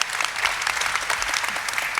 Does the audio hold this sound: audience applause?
yes